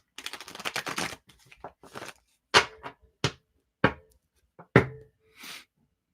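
A deck of cards is shuffled by hand in a quiet room, with a fast riffling burst at the start followed by a series of separate short slaps and taps, up close with no speech.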